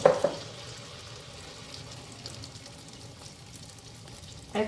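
Gokul pithe, a sweet Bengali fritter, is lowered into hot oil a few at a time and fries with a soft, steady sizzle, bracketed by brief clunks at the start and end.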